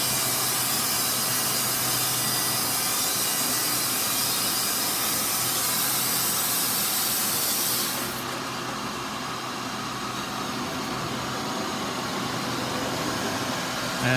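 Loud, steady hiss of a Wood-Mizer LT40 sawmill's hydraulics under a low engine drone, the bright hissing cutting off abruptly partway through while the rumble continues.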